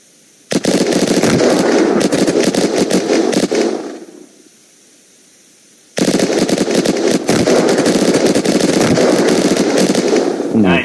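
Loud, rapid automatic gunfire from the video game Unturned rattles in two long sustained bursts separated by a brief lull, dense and close.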